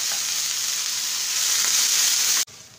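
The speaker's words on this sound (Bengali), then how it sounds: "দিয়ে দেবো সামান্য চিনি, দিয়ে আমরা এটা ব্রাউন করে ভেজে নেব" Onions frying in oil with a pinch of sugar give off a steady, dense sizzle that stays loud and even before cutting off abruptly near the end.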